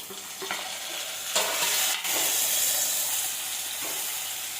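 Onion and a single tomato sautéing in a pan, a steady close sizzle and hiss with a few scraping stirs of the spoon and one louder scrape partway through, no talking.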